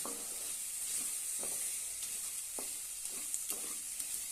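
Crumbled papad and onion chutney being sautéed in a pan, producing a continuous bright sizzle with soft, irregular spatula scrapes and taps throughout.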